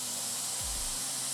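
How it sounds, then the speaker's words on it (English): An airbrush opened up to a wider spray while painting a Warhammer 40k miniature gives a soft, steady airy hiss, faint and constant through the short moment. "see that's a lot bigger spray now."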